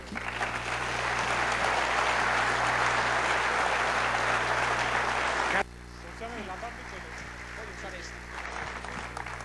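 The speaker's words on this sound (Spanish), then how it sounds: "recibámoslo con un fuerte aplauso" Audience applause for a speaker at an anniversary conference: dense, steady clapping fills the room, then drops abruptly partway through to a quieter murmur with a voice beginning to speak.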